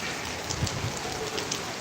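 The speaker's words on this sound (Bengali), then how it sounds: "বৃষ্টিতে আটকে আছি যেতে পারছি না" Steady heavy rain patters and hisses on surfaces nearby at a Hindu temple in Thakurnagar, a constant wash of drops with no voices.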